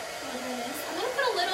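A hair dryer blows a steady, close whirring stream of air for a brief moment.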